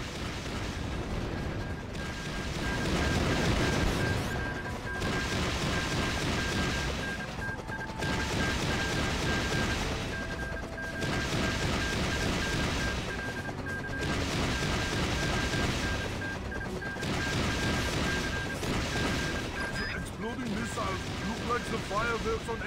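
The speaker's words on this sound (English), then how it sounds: "Look at the missiles explode before flying!" Missiles exploding in the video game Battalion Wars 2, a continuous clatter of rapid blasts and gunfire-like bursts with a steady electronic tone, swelling in waves with brief lulls and voices talking underneath.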